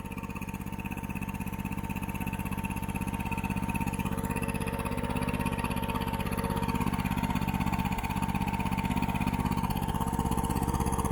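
A vehicle engine idles steadily and evenly for several seconds, a continuous close rumble with a smooth, unchanging tone and no talking.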